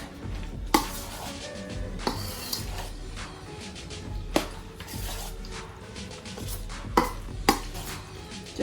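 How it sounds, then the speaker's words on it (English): A spoon scrapes and knocks through a thick macaroni pie mixture in a pot, with irregular clacks against the sides and a steady background hum, close and moderately loud. "And now we're gonna stir it up."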